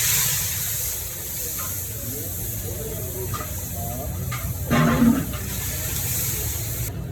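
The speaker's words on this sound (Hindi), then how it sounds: "डेढ़ डोरी पानी डालें।" Water is poured into a large pot of browning ginger-garlic paste for a wedding-style white chicken biryani, giving a steady hiss with a louder splashing surge near the end, under a voice talking.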